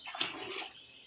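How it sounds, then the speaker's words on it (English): Water poured from jars into a pot in a home kitchen during strawberry lemon marmalade making gives a brief soft splashing gush, close and quiet, lasting about a second. "I'm just going to go ahead and pour my water in here that was in my jars."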